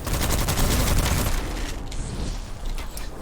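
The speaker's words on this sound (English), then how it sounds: "bullets coming at us" Rapid enemy gunfire in the video game Witchfire: a dense, loud barrage of overlapping shots and booms that runs without a break.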